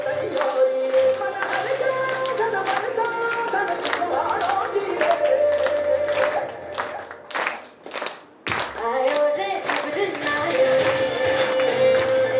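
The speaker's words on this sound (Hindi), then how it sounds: "एक साथ बाई की ताली बजाएंगे," A group claps together in rhythmic, evenly spaced beats at a Brahma Kumaris Diwali gathering, loud and close, mixed with music and voices, pausing briefly before resuming.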